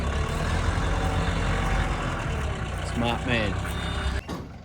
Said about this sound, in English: It's all done with a forklift.